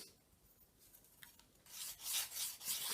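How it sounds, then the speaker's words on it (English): A rough file rasps across the edge of a roof section piece, flattening the bottom; after a quiet stretch, several close, loud rasping strokes follow one another with no talk. "a little bit of filing, a bit of a rough file, nice flat edge across the bottom"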